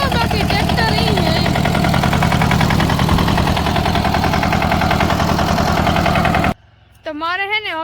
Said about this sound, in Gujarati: ટ્રેક્ટર તો જો બાકી ટ્રેક્ટર ઈ હે